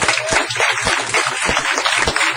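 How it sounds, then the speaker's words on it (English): People at a city council meeting applaud. The clapping is loud, close and fairly sparse, made of distinct individual claps over a low background hum. "So I want to give a big applause for Miss Donna Dunn."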